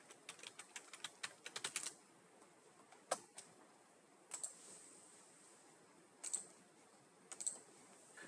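A Google search typed on a computer keyboard, a quick burst of close key clicks followed by scattered single taps and short pairs of keystrokes, fairly quiet, with no talking.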